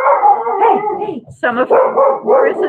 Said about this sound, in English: Dr. May, the dog likes to bark at the Amish